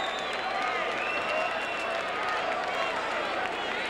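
A boxing arena crowd on its feet cheering and applauding Earnie Shavers after his 1979 rematch against Larry Holmes, a steady roar of claps and cheers with a commentator talking over it.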